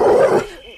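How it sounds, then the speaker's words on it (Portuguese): A dog sound effect played over the radio gives one short, loud, close bark or yelp that trails off into a thin whine. "Que nem um cachorro latindo."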